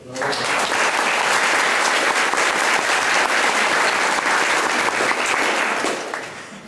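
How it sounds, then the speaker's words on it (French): Sustained applause from an audience at a university awards ceremony, loud and dense throughout, swelling in quickly and fading near the end, with no talking over it. "Alors vous l'avez applaudi"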